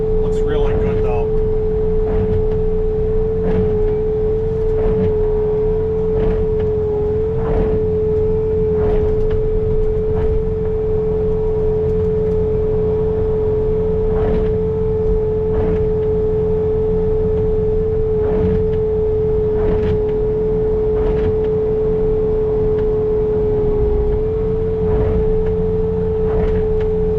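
A Bobcat T66 skid steer clearing a snowy driveway during a Christmas Day blizzard, its engine holding a loud, steady drone from start to finish while someone talks over it.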